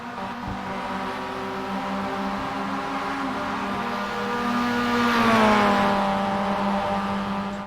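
Mazda MX5 production race car engines in iRacing at Silverstone, a droning multi-cylinder engine note holding steady, then a second car's engine rising and shifting pitch as it nears, loud and continuous without talk.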